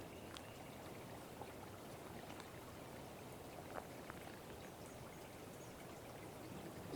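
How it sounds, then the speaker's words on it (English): Water running in a stream beside a hiking trail along the Duck River, a steady soft wash of flow heard from nearby with faint scattered drips and splashes, no voices. "if you listen, there's water running right down in his section"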